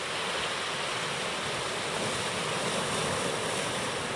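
Small one-to-two-foot surf waves at Rest Bay at high tide on an early morning, a steady broadband wash of breaking water and wind noise with no voices.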